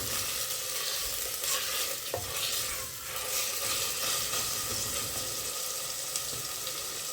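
A green paste being stirred into hot oil for chicken soup, a soft steady sizzle with scraping stir strokes and a brief clink, moderately quiet and continuous with no voices.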